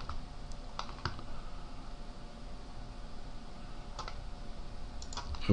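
A few sharp, quiet computer mouse clicks at a desk, isolated taps spaced out over steady background hiss with no speech.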